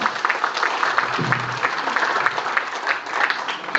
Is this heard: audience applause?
yes